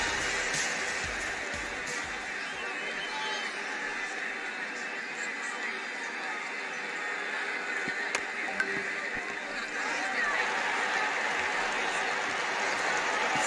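Crowd applause and cheering in the cricket video game Ashes Cricket 2009, a dense, steady wash of clapping and crowd noise that fills the whole stretch at an even level.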